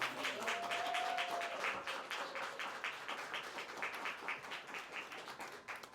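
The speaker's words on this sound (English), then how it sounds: "Can we give them a round of applause?" Applause from a live podcast audience at Cookies, steady dense clapping with a few cheers over it, moderately distant and fading slightly toward the end.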